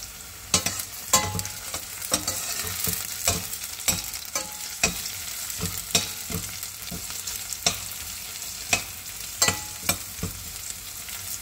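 Onion and garlic sautéed briefly in a pan, a low frying sizzle punctuated by repeated sharp scrapes and knocks of a spatula, close up with no talking.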